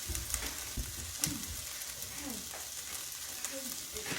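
Onions frying in melted margarine in a pan, a steady, close sizzle with occasional stirring clicks and faint voice sounds underneath.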